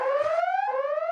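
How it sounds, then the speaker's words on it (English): An alarm sounds during a live baseball talk show: a loud, steady electronic tone with rich harmonics, slowly rising in pitch with a brief break midway, close and alone without talking. "Alarm."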